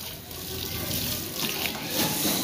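Water sprayed onto a Suzuki Bolan van to wash off caked dirt: a steady, close, hissing rush of water that swells slightly toward the end, with no talking.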